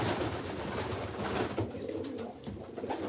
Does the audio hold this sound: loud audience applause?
no